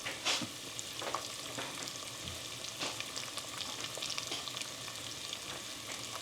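Food frying in a pan sizzles steadily at a soft level while salt is stirred in, with scattered scraping and clinking of a spoon against the pan.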